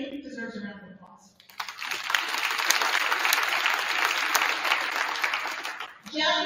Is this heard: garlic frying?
no